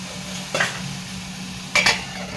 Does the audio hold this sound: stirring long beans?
yes